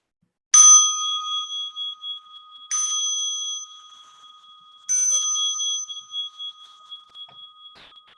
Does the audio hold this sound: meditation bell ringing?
yes